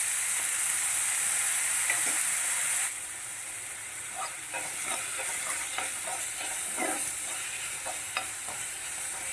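Chopped onion hitting hot oil in a pan for soya cutlets, a steady close sizzle with bright hiss that settles slightly after the first few seconds, broken by scattered light stirring clicks.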